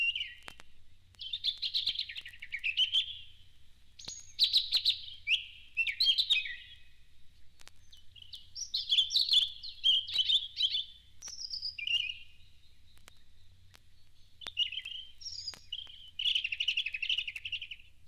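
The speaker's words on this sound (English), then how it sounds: "Here, then, is the robin's song." A European robin sings alone in clear, high, warbling phrases separated by short pauses, near and distinct over a quiet low hum.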